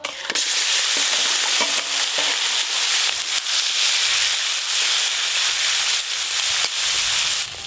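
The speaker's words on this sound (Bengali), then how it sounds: "ছোট মাছ ভাজা হয়ে গেল, এবার কাঁকড়াগুলো ভেজে নেব।" Small crabs frying in hot oil, a loud, dense, continuous hissing sizzle that holds steady from start to finish with no one speaking.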